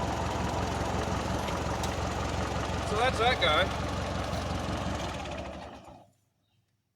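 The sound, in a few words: 1950 tractor engine idling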